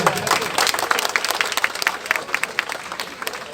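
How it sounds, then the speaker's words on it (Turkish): A crowd at a marathon start applauds the race organizers, loose, uneven clapping that thins toward the end, with some voices mixed in. "Kuvvetli bir alkış alalım onlara"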